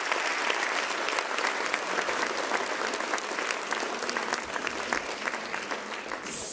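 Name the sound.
applause from the audience in the room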